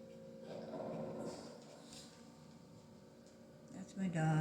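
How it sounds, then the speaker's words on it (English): A pet dog growls low and whimpers softly nearby, a quiet rumbling grumble that fades and then returns with a louder whine at the end. "That's my dog."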